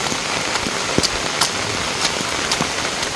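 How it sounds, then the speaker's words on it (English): Heavy rain pours down steadily on a farm, a dense continuous patter with scattered louder drops striking nearby surfaces. "Rain like crazy."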